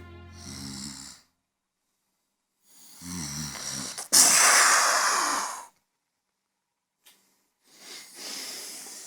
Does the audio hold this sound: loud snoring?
yes